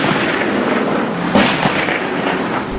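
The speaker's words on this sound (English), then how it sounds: "the bomb squad detonated the fireworks" A bomb squad detonates a cache of homemade fireworks, producing a dense, roaring wash of crackling blasts with a stronger burst partway through, loud and sustained with no voices.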